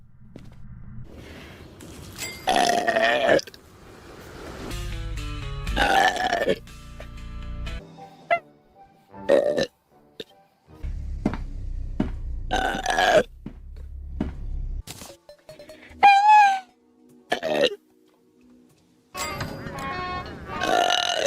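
A girl lets out a string of loud, close burps, some long and drawn out, some short, spaced between stretches of her own chatter.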